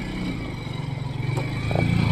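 A motorcycle is worked free along a difficult mountain track on the way to Chopta, its engine chugging in a low, uneven pulse that swells slightly toward the end, fairly close, with no talk.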